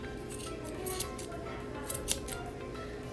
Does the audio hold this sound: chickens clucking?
no